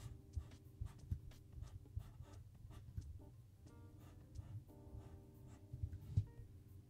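Pen strokes scratch across paper as polyhedral dice, including a d20, are drawn during a fantasy-themed autograph session, giving a steady run of soft, close scribbling bursts with no voices.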